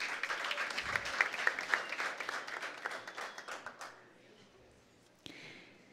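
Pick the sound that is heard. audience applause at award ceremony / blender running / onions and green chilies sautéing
audience applause at award ceremony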